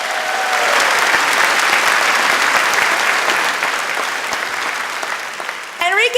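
A conference audience applauds at an employee engagement talk, a loud, continuous roar of clapping that gradually thins, with a voice starting to speak over it in the final moments.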